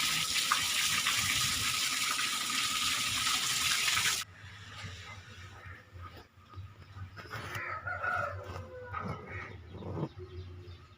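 Water gushes steadily and loudly into a fish tank beside a pond, then cuts off abruptly, leaving quieter splashing and faint outdoor background sounds.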